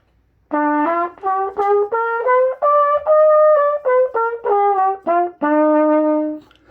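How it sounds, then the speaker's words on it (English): A single melodic instrument plays a stepwise scale rising then falling, each note distinct and evenly paced, ending on a held low note. "So I just went up the scale and I went down the scale."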